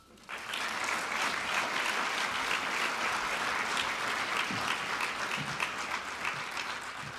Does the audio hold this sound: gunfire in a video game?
no